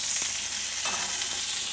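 A ribeye cap steak sizzles steadily in a hot pan, with a continuous bright frying hiss and small grease pops and splatters throughout, close and alone with no voices.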